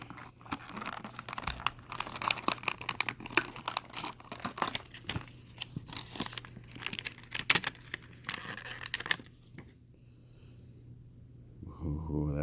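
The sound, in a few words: opening toy car packaging with a razor, crinkling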